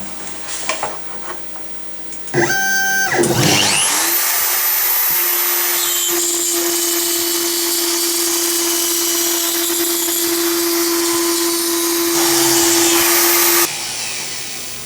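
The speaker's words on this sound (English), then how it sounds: "now we will try high density polyethylene with the upcut" An X-Carve DIY CNC router with an upcut milling bit cuts high density polyethylene. After a short burst of clatter, a loud spindle whine and harsh hissing cut run steadily for about ten seconds, then stop abruptly.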